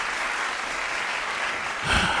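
Applause sound effect: a dense, steady wash of crowd clapping that runs the whole way through and swells slightly near the end, with no voices over it.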